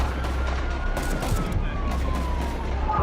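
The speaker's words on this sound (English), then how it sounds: "You hear it? He's shooting right now." Rapid gunfire from a sniper shooting at police, heard through a police radio amid a dense, continuous roar of shots and a faint siren-like tone, steady and loud across the whole stretch.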